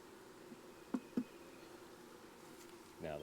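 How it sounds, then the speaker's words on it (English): Honeybees humming at an open hive during a frame inspection, a faint low drone with a couple of soft knocks and a brief louder buzz at the end. "See, the bees are in here already working,"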